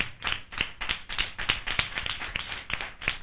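A church congregation claps in a steady, even rhythm, roughly three claps per second, each crisp and distinct, continuing without talk throughout.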